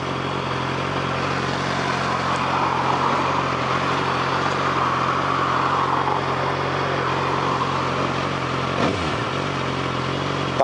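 A Suzuki SRAD 750 motorcycle, fully stock with its original exhaust, idles steadily nearby with a constant low engine drone and no clear revving.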